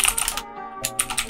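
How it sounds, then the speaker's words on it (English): Short burst of computer keyboard typing, entering text into a web template, with quick close key clicks, a brief gap, then more taps, heard alone. "Okay, so I'm going to type in about us in here"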